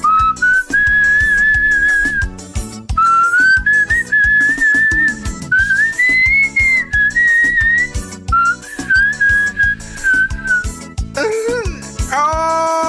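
A man whistles a wavering, tuneful melody in several long phrases with short breaks, loud and close, ending with a few quick lower notes, over soft background sounds.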